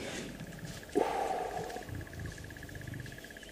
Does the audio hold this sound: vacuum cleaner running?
no